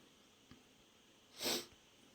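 A faint sniff, then a short sharp sniff-like burst of breath through the nose while holding back a sneeze, quiet and close, in an otherwise still room.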